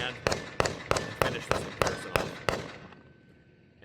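Gunfire at a public outdoor shooting range: eight sharp, loud shots in a fairly even rhythm about a third of a second apart, each ringing briefly before the last fades out.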